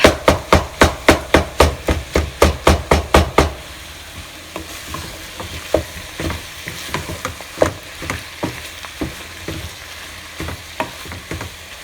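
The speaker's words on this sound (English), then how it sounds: "Mash it up." Chicken keema with spinach gets mashed in a frying pan, with a run of rapid, loud, rhythmic thuds followed by softer, irregular knocks over a continuous sizzle.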